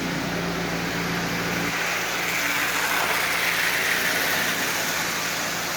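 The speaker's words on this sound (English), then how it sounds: "But the motor is mounted and running, as you see. Pulling, I think it's 10 cars." A Marx 1095 Santa Fe diesel toy locomotive pulling about nine cars around its track gives off a steady, close motor whir and buzzing hum, unbroken for several seconds.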